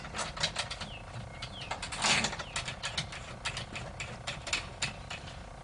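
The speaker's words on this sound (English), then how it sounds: "These are the 2 screws, and I'm just going to screw them back here." Two screws being driven into a photo booth frame, giving a steady run of close mechanical clicks and ratcheting whirs with brief pauses, and no talking.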